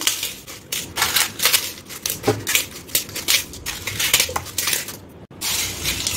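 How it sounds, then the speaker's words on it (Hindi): Crisp, dry crunching and crackling as fried khajla pieces are snapped by hand into chivda, a steady close-up run of brittle breaks and rustles with no talking. "जैसे हमने खजले तले थे उनको भी इस तरह से तोड़ तोड़ के डाल देते हैं"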